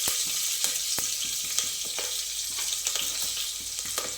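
Chopped curry leaves sizzle and crackle in hot oil with cumin seeds for dal palak khichdi, a steady close frying hiss with sharp pops scattered throughout, no voices.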